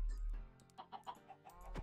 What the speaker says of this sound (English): is there not a way of killing all these chickens at once?